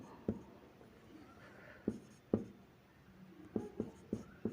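Pen or chalk writes out a math working for rational numbers, with sharp scratches and taps in irregular bursts, close and fairly quiet, with no talk.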